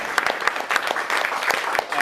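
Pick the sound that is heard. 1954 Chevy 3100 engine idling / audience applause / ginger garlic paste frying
audience applause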